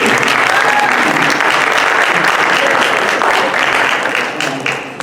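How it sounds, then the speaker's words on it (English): Sustained applause from a crowd, steady clapping throughout that begins to thin out toward the end. "I'd like to give her a fantastic round of applause"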